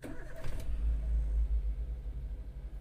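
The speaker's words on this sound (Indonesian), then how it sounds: "kemudian kita nyalakan ya guys starternya pada posisi start" A car engine cranks on the starter and catches, settling into a low, steady idle rumble close by, with no voices.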